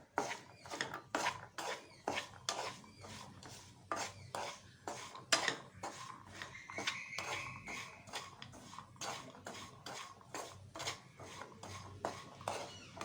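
A spoon scrapes and clanks against a pan while mango pickle is mixed, giving a rhythmic run of sharp metallic strikes and scrapes, close and fairly quiet, with no talk.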